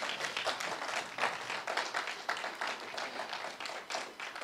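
A church congregation applauds steadily, a dense wash of many hands clapping close and loud for the full length, with no speech over it.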